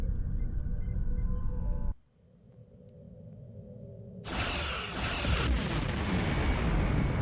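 Starship weapons fire at an enemy vessel in the Star Trek Online game, a rumbling drone cutting out before sharp, loud weapon blasts erupt and keep booming near the end.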